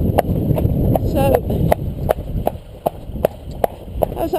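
Horse hooves clip-clop in a steady, evenly spaced rhythm during foundation training with Mysafecobs, the sharp strikes fairly close and recurring about every half second beneath a low murmur of talk.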